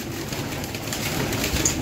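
Rare pigeons coo in a loft, soft low murmuring calls close by over a faint background hum, brief and steady.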